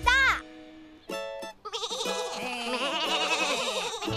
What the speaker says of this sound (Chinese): 山羊都回来了耶